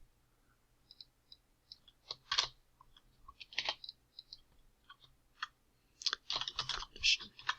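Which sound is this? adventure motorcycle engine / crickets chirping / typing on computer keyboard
typing on computer keyboard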